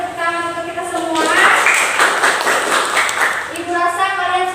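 Classroom applause breaks out during a micro-teaching lesson, a burst of clapping from a group of students lasting a few seconds, with a voice speaking over and around it.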